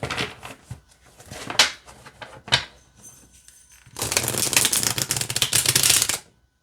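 A tarot deck is handled and riffled with a few sharp snaps and taps, then a sustained close, loud shuffle of cards for about two seconds that stops abruptly.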